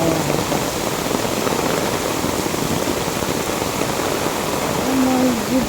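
Heavy tropical downpour in a storm-like deluge, a dense, steady roar of rain hammering surfaces close by, continuous and loud throughout with no pauses.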